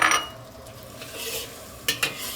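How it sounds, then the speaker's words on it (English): Shrimp and eggs with scallion being stir-fried in a wok for Cantonese shrimp and eggs, a brief scrape and sizzle at the start, then soft stirring with two sharp utensil clinks near the end. "And then you kind of give it a stir fry."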